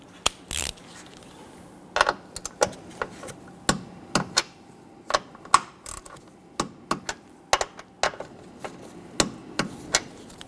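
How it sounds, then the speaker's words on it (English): Upper strut mount nuts on a Dodge Charger front strut being torqued to 20 foot-pounds: a steady run of sharp, close metallic clicks from the wrench, irregularly spaced across the whole stretch, with no talking. "Let's go ahead and torque these down to 20 foot-pounds."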